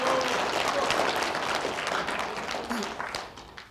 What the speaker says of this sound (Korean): 동가시 오면 박수 한번 하세요.